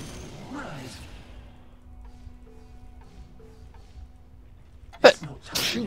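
A single sharp sneeze bursts out near the end after a stretch of low background hum, quickly followed by a brief voiced sound.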